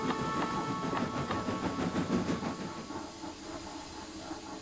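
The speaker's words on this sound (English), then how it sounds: "Tori pulled into a station with her evening goods train." A steam goods train hisses and chugs with rhythmic clickety-clack that gradually slows and softens as it pulls into a station in the evening.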